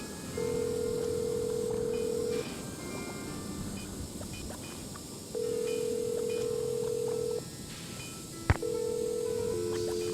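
A telephone in a Nancy Drew mystery game, set in a snowed-in lodge, rings with three long steady electronic tones spaced apart over a low, constant background rumble; a sharp click sounds near the end.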